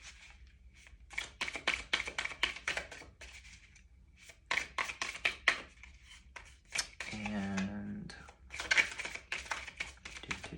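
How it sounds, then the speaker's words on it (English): Oracle cards being shuffled by hand in quick crisp riffling bursts, with pauses between them and a short spoken word in one gap. "maybe one more shuffle"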